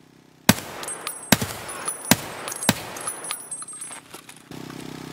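Gunfire in the first-person shooter Escape from Tarkov: several loud, sharp shots spaced about a second apart, with smaller clicks and rattles in between, followed by a quieter stretch at the end.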